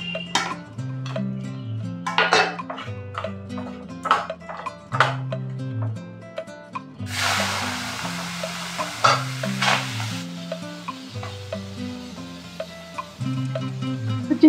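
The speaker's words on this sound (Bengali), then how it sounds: "এবার চিংড়ি মাছটাকে আমি নুন হলুদ মাখিয়ে একটু ভেজে নেব।" Shrimp coated with salt and turmeric frying in a kadai, a hissing sizzle that swells for a few seconds midway, heard under steady background music.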